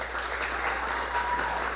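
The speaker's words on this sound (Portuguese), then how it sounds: "Se você puder aplaudir a Jesus." A church congregation claps steadily and fairly quietly, a dense, continuous patter of applause throughout.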